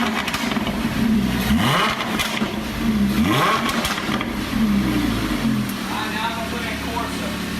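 A rebuilt, previously wrecked Lamborghini Huracan engine is revved in Strada mode, loud and close, with three rising throttle blips over a steady idle and some voices in the background.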